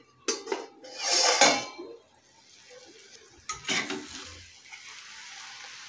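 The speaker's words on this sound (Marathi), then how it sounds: "अशी हलवून घ्यायची आहे एकदा।" Spring onion dry stir-fry being stirred in a pan, with a few close scraping and clinking strokes of a utensil against the metal and a faint sizzle continuing in between.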